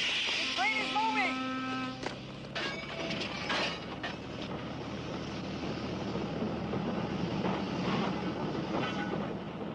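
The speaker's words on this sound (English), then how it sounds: "The train is moving!" A train in an action film starts to move: a squeal of brakes or wheels gives way to clanking, then a rising rumble and rolling noise of the rail cars gathering speed.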